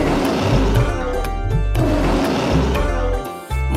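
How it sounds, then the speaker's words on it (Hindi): A lion roars in a Hindi nursery rhyme about the king of the jungle, with loud repeated roaring over a rhythmic musical backing throughout. "जंगल का राजा शेर दहाड़े"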